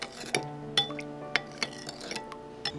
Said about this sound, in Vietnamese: Khuấy cho tan gia vị.